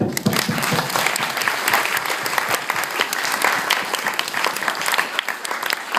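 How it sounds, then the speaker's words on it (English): Wedding guests clap during a best man's speech, a lively, close burst of many hands with crisp individual claps audible, holding steady and full throughout without talk over it. "Please give me a round of applause."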